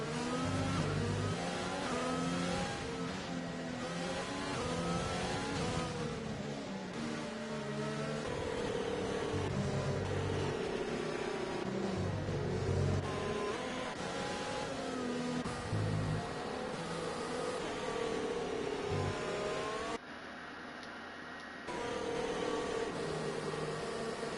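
F1 cars circling behind the safety car at Spa in a racing video game, engines humming at moderate, varying revs with a brief quieter dip near the end, no talk.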